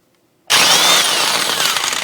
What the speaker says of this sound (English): I'm using a big impact gun to spin it.